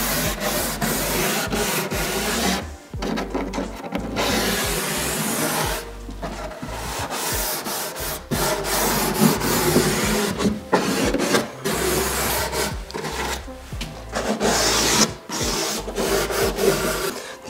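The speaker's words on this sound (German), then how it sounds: "nehme ich dann einfach ein Schleifpapier in die Hand und schleife es mit der Hand nach" Wooden door sanded by hand with sandpaper, repeated rasping back-and-forth strokes in uneven bursts with brief pauses, close and fairly loud, no talking.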